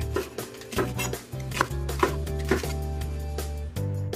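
A knife chops whole green onions rhythmically on a cutting board, sharp distinct strikes about twice a second, close up over a steady musical background.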